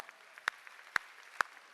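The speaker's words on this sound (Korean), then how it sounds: "박수 치라야." Three sharp, evenly spaced claps ring out faintly in a church congregation during a Sunday afternoon worship service, with quiet room tone between them.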